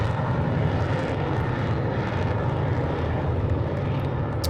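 A jet aircraft engine goes to full afterburner, a loud, steady, low roaring rumble that stays constant and close throughout without pause.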